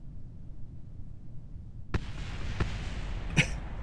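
Distant explosions in the spacecraft game Kerbal Space Program break a quiet low hum as a sudden dull blast followed by a few more muffled pops and thuds, no voices.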